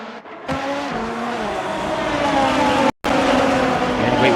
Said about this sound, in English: Down the inside, Tyler Williams in the first two corners manages to defend so far